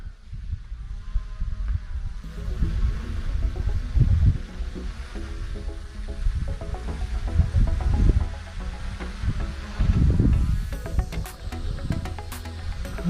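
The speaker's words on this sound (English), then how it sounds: "Wind's trying to blow me away, like always." Wind buffets a microphone outdoors during a camera drone test flight, a low rumbling roar that surges and fades in gusts, with a faint steady motor hum beneath.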